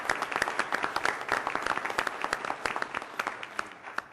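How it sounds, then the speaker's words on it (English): A round of applause at a full board meeting, many people clapping fairly quietly in a room, with sharp individual claps standing out throughout the few seconds. "give you a round of applause for all your hard work."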